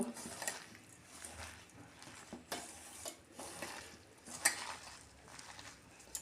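Coriander-leaf fritter batter with rice flour and black cumin being mixed by hand in a bowl: soft, irregular squishing and light clinks of utensils against the dish, fairly quiet and close, with no talking.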